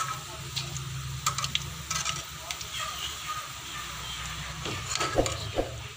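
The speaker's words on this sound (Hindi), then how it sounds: "ये तो इसी तरह सारी हमने घी में डाल के फ्राई कर लेनी है" A large batch of okra sizzles as it fries in ghee in a pan for a potato and okra curry: a steady, close, crackling hiss runs throughout, with a few light clinks.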